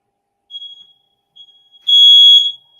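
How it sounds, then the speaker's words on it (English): A smoke alarm sounds twice with short, faint chirps, then one loud, piercing beep lasting about half a second before cutting off. "I think I set off an alarm."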